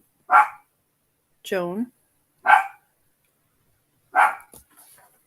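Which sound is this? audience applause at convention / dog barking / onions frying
dog barking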